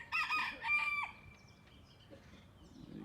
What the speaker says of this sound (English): You got a little rooster making some noise.